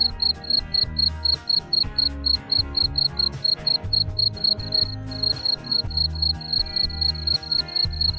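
Crickets chirp in a steady, rapid, high-pitched pulsing trill that runs continuously throughout, loud and close, over a busy lower background.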